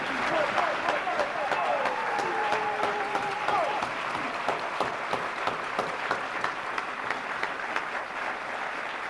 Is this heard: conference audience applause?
yes